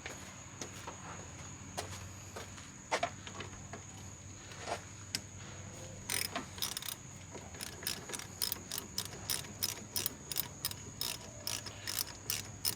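A hand ratchet works a 10mm bolt in a Jeep XJ engine bay, its sharp clicks sparse at first, then coming in quick, close, rhythmic runs.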